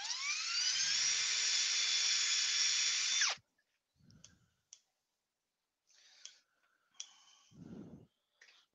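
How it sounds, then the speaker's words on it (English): A sanding disc whines loudly against turned wood on a lathe for about three seconds, then cuts off abruptly. Faint clicks and brief low rumbles of workshop handling follow in near quiet. "So I hit it with a sanding disc, which I shouldn't have done."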